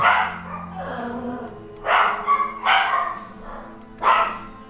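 Several nervous dogs bark in short sharp bursts at home, with four or five loud, close barks spaced unevenly between quieter whimpering gaps.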